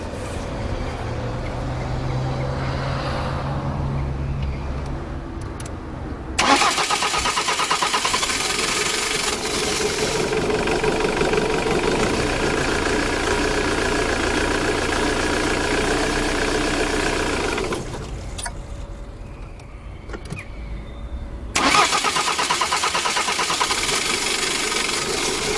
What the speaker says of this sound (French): Ah, tu as du mal à démarrer comme on peut le voir.